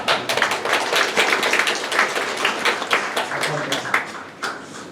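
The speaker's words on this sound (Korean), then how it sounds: "박수 한번 보내드리면 좋겠습니다" At a press conference marking a Daejeon education superintendent's third year in office, a room of attendees claps for reporters with brisk, close applause that rises and falls in bursts.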